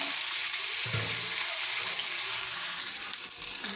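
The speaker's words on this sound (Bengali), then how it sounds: "এই দেখুন এক পিস ভাজা হয়ে গেছে, এই একবার উল্টে দেবো, দিলে এই পিসটাও ভাজা হয়ে যাবে।" Pieces of chana fish fry in hot oil, giving a steady, close, broadband sizzle that runs unbroken through the clip with no talking.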